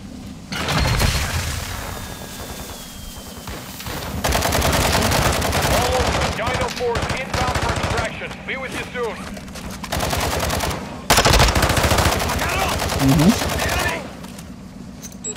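Sustained bursts of automatic gunfire in the DMZ video game, loud and close, with rapid rattling volleys, brief pauses and a few booming impacts, while a voice calls out over the shooting.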